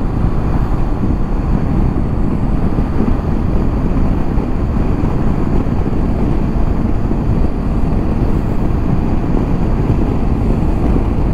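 Cold wind roaring past the microphone while riding a Honda CB 500X motorcycle, a loud, continuous buffeting rush mixed with road and engine noise, with no speech.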